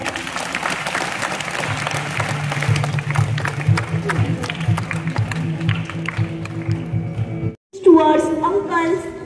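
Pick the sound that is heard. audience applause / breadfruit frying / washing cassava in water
audience applause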